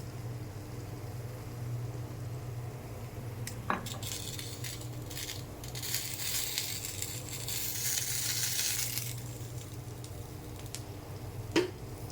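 Oil sizzles as shrimp fry in a banana leaf, a quiet steady crackle under a low hum, with two sharp utensil clicks and a brief swell of louder frying.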